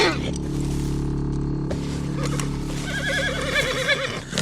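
A Piebald Hungarian half-bred horse in Red Dead Redemption gives a loud, wavering whinny close by, with a steady game hum and soft stirring underneath.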